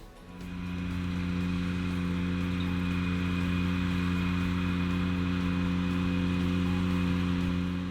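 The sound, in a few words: Ventrac compact tractor engine running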